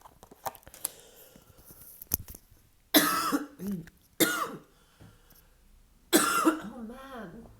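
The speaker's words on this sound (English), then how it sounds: "I'm sure you're sick of me coughing." Three bursts of harsh, loud coughing from a woman, each cluster of hacking coughs separated by quiet pauses with faint shuffling and card-handling noise in between.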